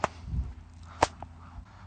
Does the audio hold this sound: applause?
no